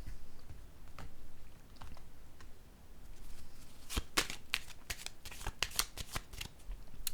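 Tarot cards shuffled softly at first, then a run of crisp, sharp snaps and slaps as cards riffle and are laid down, close and fairly quiet, with no voice over it.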